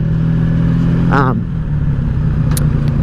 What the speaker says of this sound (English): Oh good, we're idling a little bit lower now.